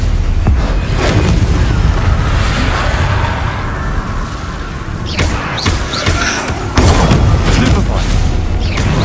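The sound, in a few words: spell blasts in Hogwarts Legacy video game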